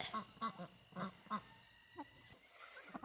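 Several ducks call in short, repeated quacking bursts in a backyard flock checked at bedtime, fairly close, with a brief rustle near the end and no one talking.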